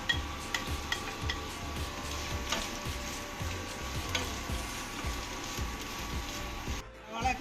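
Sliced onion and two green chillies fry in coconut oil in a pan, a constant loud sizzle cut by regular scraping strokes of a spoon, close and without talk.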